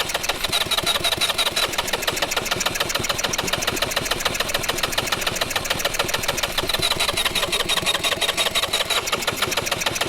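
Minibike engine running hard and loud at close range, a rough, rapid and continuous pulsing firing rhythm with no talk over it.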